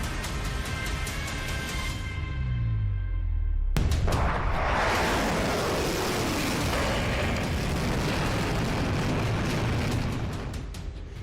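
An Iskander ballistic missile launches with a sudden, loud blast that swells into a sustained roar. The roar holds for several seconds, then slowly fades.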